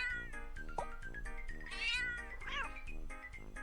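Repeated meows from a cartoon cat in the mobile puzzle game Block Cat Jam, sounding over a steady looping game tune with a bright chirpy cry midway and another near the end.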